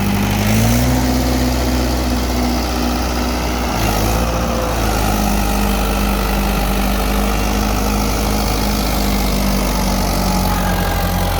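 A Mahindra 575 XP Plus tractor engine runs steadily at a loud, close idle, holding a constant low rumble for the whole stretch with a brief shift in pitch early on.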